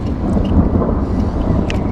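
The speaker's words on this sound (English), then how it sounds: "I can hear that thunderstorm" Thunderstorm over a public lake in France, a low rolling rumble of thunder with wind buffeting and a light rain wash, steady and fairly loud, no voices.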